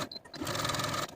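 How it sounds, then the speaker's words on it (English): A sewing machine stitches a facing onto the bottom of a velvet dress sleeve, running in one quick, steady, close whirring burst of about a second with no talking. "sew the facing to the bottom of the sleeve with a 5/8 inch seam allowance"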